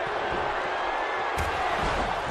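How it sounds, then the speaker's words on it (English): Wrestling arena crowd in WWE 2K17 swelling with excitement, a dense, steady roar of cheering filling the whole clip, with a brief sharper burst partway through. "The crowd are coming alive and they know what's coming next."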